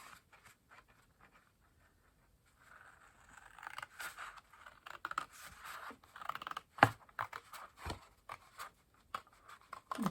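Scissors snip through paper while a desk caddy is cut from card, with quiet rustling at first, then a run of close, crisp cuts and scrapes and a couple of louder clicks of the blades.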